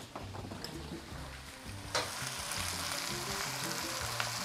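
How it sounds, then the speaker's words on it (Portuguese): Onions sauté and sizzle in a pan for Portuguese bacalhoada, with a steady hiss of frying and a stirring scrape partway through. No voices are heard. "aqui a gente vai dar uma boa mexida na cebola"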